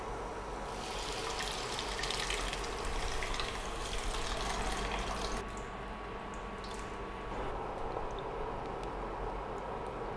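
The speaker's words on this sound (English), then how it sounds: "Now let's add the tamarind extract." Tamarind extract pours into a simmering dry fish curry of sardines in a pot, a steady close liquid splash and trickle for several seconds before easing to a quieter bubbling hiss, with no talking.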